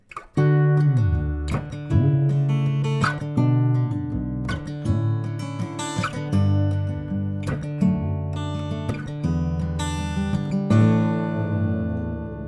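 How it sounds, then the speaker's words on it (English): Electric guitar through an Electro-Harmonix Pitchfork pedal set to add an octave, played as a riff of plucked notes doubled by a lower shifted voice, close and fairly loud, no talking. "I'm running the Submarine through a Pitchfork pedal. Pitchfork's an Electroharmonix pedal."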